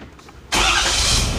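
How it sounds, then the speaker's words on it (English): A Ford Super Duty truck, 2023 or 2024 model, starts up by remote: a quiet moment, then the engine abruptly catches and settles into a loud, steady idle close by. "So what we want to do now is I'm going to remote start the truck."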